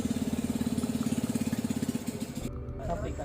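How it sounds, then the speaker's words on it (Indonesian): Boat engine of an approaching boat at night at a forest fishing camp on a former gold mine in Kalimantan, a rapid steady putter that runs loud and close, then fades into ambient noise near the end. "terdengar suara mesin perahu anggota kita"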